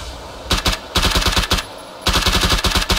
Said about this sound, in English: You're shooting the wall.